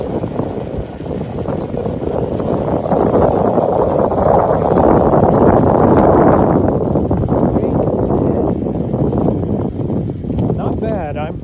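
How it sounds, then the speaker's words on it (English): Heavy wind roars across the microphone while riding a Gotrax Dolphin 26-inch electric bike into a headwind, a loud, continuous rushing buffet that holds for the whole stretch. "I'm probably going into the wind now before I would have been going with the wind."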